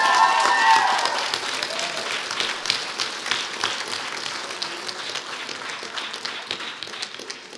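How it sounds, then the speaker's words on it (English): Audience applause rings out for the winner of a school district spelling bee, a dense wash of clapping that starts loud and tapers gently while continuing for several seconds, with faint voices mixed in. "Give him a big round of applause."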